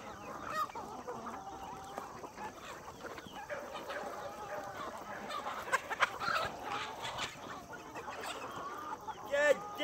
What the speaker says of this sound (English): If you look straight to the outside to the pond, you see the ducks.